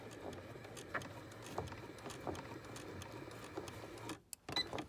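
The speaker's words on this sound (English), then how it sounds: "So I'm just going to start sewing." A sewing machine stitches plastic boning into a bustier, its motor whirring in a steady continuous run with slight rises and dips, stopping briefly near the end before a few short restarts.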